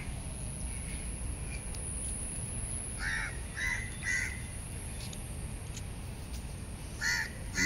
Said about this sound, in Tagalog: mas maingay dito ang mga ibon.